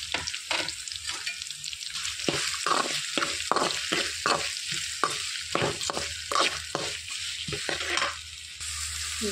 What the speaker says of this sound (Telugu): ఇప్పుడు ఇందులోనికి ఆనియన్స్ కట్ చేసి పెట్టుకున్న ఆనియన్స్ వేసేసుకోవాలి.